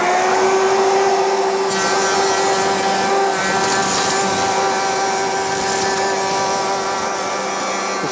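Router fitted with an Axcaliber offset tenoning cutter cutting a wooden workpiece, a loud sustained high whine with a steady tonal motor pitch and shifting gritty cutting noise throughout.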